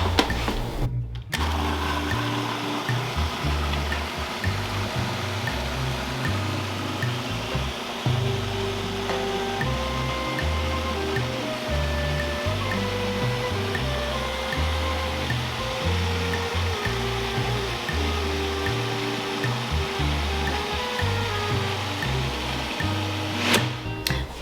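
A blender whirs loud and close as it purées pumpkin and squash hummus with garlic and olive oil. The motor grinds steadily for about twenty-four seconds, its pitch shifting as the thick mixture churns, with a short break near the start.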